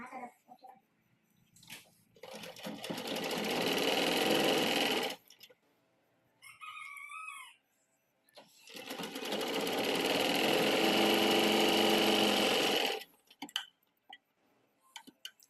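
An electric sewing machine stitching blouse fabric runs in two long, loud, steady whirring bursts of a few seconds each. Between them come quiet pauses with small mechanical clicks and a brief whirring wind-up.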